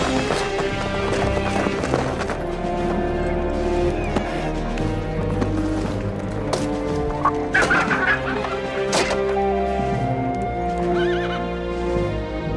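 Several horses clip-clop as a group rides off on a Western-style set, hooves steady and loud throughout, with neighs and whinnies, chickens clucking nearby, and a busy ambient bed under it.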